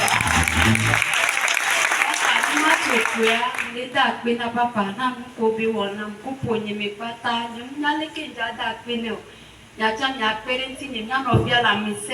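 A church congregation applauds and cheers loudly at a worship service. The clapping fades as a speaker's voice and music take over, with scattered claps continuing beneath.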